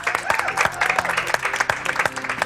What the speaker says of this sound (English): And a round of applause from the gallery